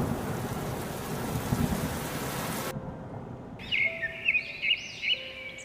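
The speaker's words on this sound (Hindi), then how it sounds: "तेज हवा चलने के बाद बरसे बादल किसानों पर आफत बनकर टूटे।" Cartoon thunderstorm effect: a dense wash of heavy rain with rumbling thunder fills the first few seconds, then cuts off abruptly and gives way to bright, repeated bird chirps.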